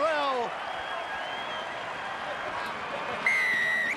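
Canberra Raiders supporters roar in a stadium after a try in a 2002 NRL rugby league match against the Northern Eagles: a broad, steady crowd cheer with a whistle-like tone near the end, likely under commentary.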